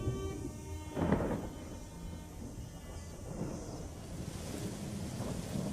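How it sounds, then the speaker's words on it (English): A thunderstorm during the African rainy season gives a faint, distant roll of thunder early on, followed by a steady wash of wind and rain. "It's January, Abdi's first rainy season"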